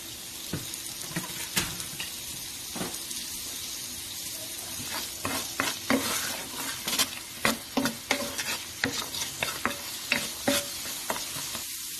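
Sliced carrots stir-fry in a hot pan with coconut aminos and salt for hibachi-style fried rice: a constant sizzle broken by frequent sharp spatula scrapes and clacks that grow busier and more rhythmic over time.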